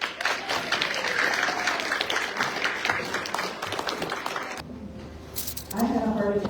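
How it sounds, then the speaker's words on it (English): An audience applauds as a speaker is introduced, a busy patter of clapping for several seconds before it thins out, followed by a voice and some handling noise. "Let's give her a round of applause."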